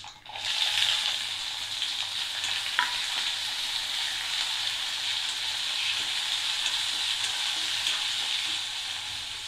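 Onions and spices fry in a hot pan with a dense, continuous sizzle that holds steady and fairly loud from start to finish, close up, with no voices.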